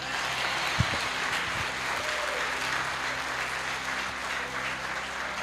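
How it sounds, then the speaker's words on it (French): A church congregation claps and applauds steadily throughout, a dense continuous wash of hands at moderate distance, with a few low thumps near the start. "Applaudissez le Seigneur."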